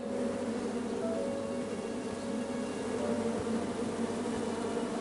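A steady swarm of bees buzzing in the video game King's Quest, a continuous close drone with no pauses and no voices.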